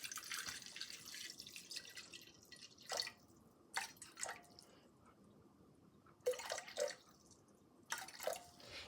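Water being poured and measured out for a soap lye solution, a soft running trickle with several brief splashy bursts of pouring at intervals, fairly quiet and with no voices.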